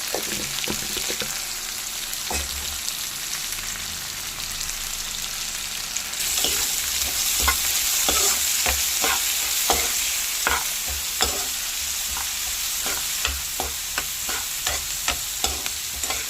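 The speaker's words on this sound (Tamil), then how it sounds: "வெங்காயம் லேசாக வதங்கின வாட்டி பாவக்காயை சேர்த்துக்கலாம். பாவக்காய் நல்லா வதங்கிட்டோம்." Bitter gourd and onion sautéing in a pan, seasoned with salt and turmeric for a Tamil poriyal, making a steady close sizzle with repeated scraping stirs of a spoon throughout, with no talking.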